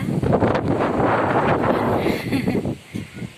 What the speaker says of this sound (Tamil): காற்று அடிச்சுருக்குது பாருங்கள்.